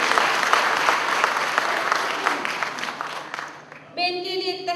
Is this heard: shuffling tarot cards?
no